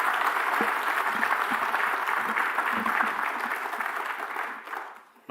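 Sustained applause from a lecture audience, a dense steady wash of clapping that carries on for several seconds before thinning out and fading away at the end.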